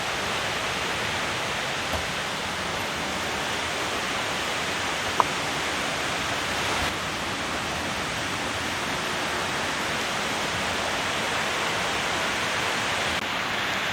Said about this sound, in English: Looks like we might be crossing the river here